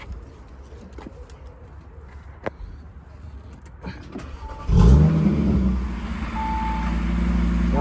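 A 2022 Audi RS3 engine cranks and catches at once, then settles into a steady, loud idle that keeps running close by.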